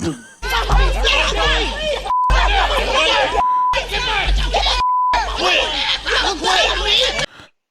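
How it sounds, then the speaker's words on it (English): Censor beeps cut over cuss words in a lively podcast conversation, three short steady tones dropping in where the talk cuts out, with chuckles and excited speech all around them. "that's probably one of the few times you'll ever hear cuss words beeped out on this podcast"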